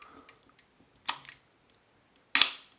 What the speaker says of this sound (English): when I press the release, this should trip immediately